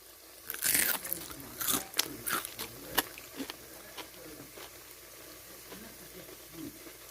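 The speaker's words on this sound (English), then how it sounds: "Listen to this crunchiness." Biting into a crunchy fried hashbrown pocket filled with steak and egg: a run of sharp, close crunches and chewing clicks, loudest early and thinning out, over a faint background sizzle.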